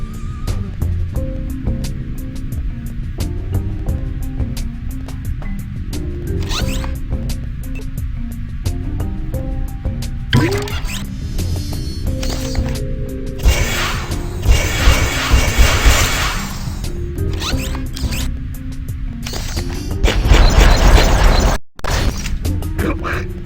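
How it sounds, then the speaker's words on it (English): In Despicable Me on PSP, an ice block is formed and then blasted with an air gun, giving a run of thuds, whooshes and crashing, shattering bursts over a humming game soundtrack, with a voice speaking over it. "make an ice block and then blast it with the air gun"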